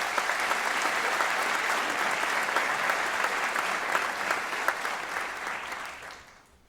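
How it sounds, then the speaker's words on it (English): A large audience at a city's State of the City address breaks into sustained, dense applause, steady and full for several seconds before tapering off at the end. "Let's give them all a round of applause."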